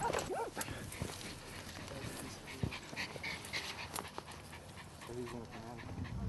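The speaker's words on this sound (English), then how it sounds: "Oh, someone's barking." A dachshund barks from underground while hunting quarry in its den, the muffled barks coming in repeated bursts amid rustling and background noise, with other sounds scattered throughout.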